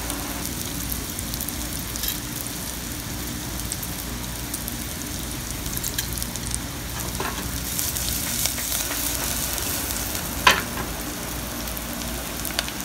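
Onion and other ingredients sauté in a hot pan with a steady, loud sizzle and crackle that runs throughout, broken now and then by a light scrape or stir and no voices.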